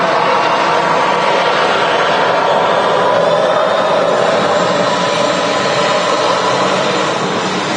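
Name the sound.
TUI Boeing Dreamliner jet taking off, Manchester Airport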